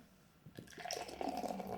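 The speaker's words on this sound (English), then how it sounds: "Let's give it a good old center pour to see what this one brings to the table." Mikkeller Windy Hill, a 7% New England style IPA, center-poured into a glass, heard as a brief quiet gurgling splash that starts after a short pause and rises steadily, without talk.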